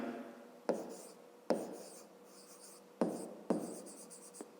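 A pen writes on paper during a fifth-grade maths exercise, several short scratchy strokes in quick bursts, close and quiet, separated by brief pauses.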